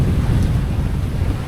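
Strong wind at sea buffets the microphone in a dense, continuous low roar, loud and close, with no voices.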